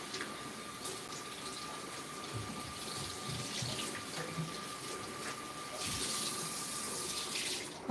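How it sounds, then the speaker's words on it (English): Cold water runs from a kitchen sink tap over a raw turkey, a steady close hiss and splash that carries on throughout with slight shifts as the bird is moved, without any talk. "So I'm going to take it over here to the sink, get some cold water on it."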